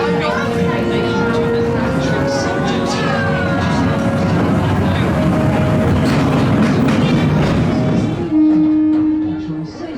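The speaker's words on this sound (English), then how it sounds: "When the horn goes off, it means it's time to ride." A roller coaster's start horn at Dino Chase in Paultons Park gives a loud steady tone near the end, following a long stretch of dense, noisy theme park ambience.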